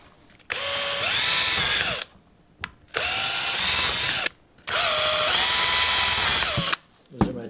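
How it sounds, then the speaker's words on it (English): Power drill boring holes in wood for nails, three steady whining bursts of one to two seconds each, the motor pitch dipping as the bit bites, with short quiet pauses and clicks between. "I actually found a drill, and I'm gonna drill those holes"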